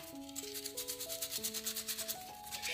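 Rhythmic rubbing strokes of finishing sandpaper shaping a carved wooden tulip, repeated back-and-forth scratches close by, with a faint tonal hum running underneath.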